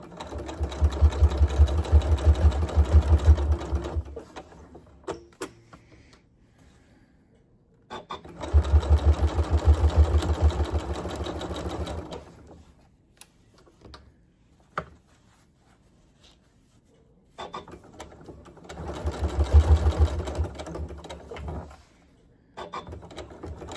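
A sewing machine stitches slowly through thick layers of fabric and a quarter-inch seam on a handmade wallet, in three loud bursts of steady, rapid needle chatter separated by quiet pauses.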